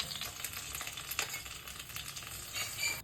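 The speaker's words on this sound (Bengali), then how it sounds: "তেল গরম হয়ে গেছে, সিদ্ধ করা এঁচোড়গুলোকে ভেজে নেব।" Boiled jackfruit pieces fry in hot oil, a close, dense crackling sizzle with small pops and stirring scrapes, fairly quiet overall and continuous with no voices.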